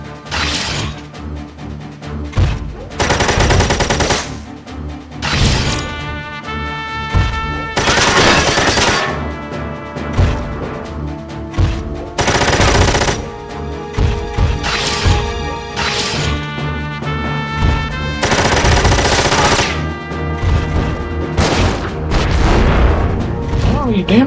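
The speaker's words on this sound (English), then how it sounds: "They'll counter with the machine gun." Machine gun bursts and heavy impacts fire during mech combat in the video game Front Mission 4, loud repeated rattling volleys alternating with booms and crashes over a game soundtrack, with speech mixed in.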